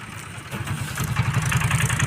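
A tractor's diesel engine idles with a steady, rapid low chugging that grows louder and rougher partway through, close by.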